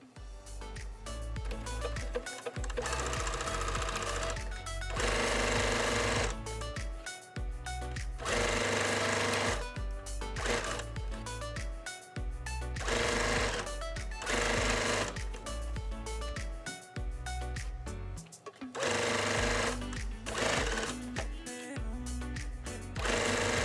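Sewing machine stitching a pillowcase in loud, steady runs, pausing briefly every few seconds before starting up again, with no talking.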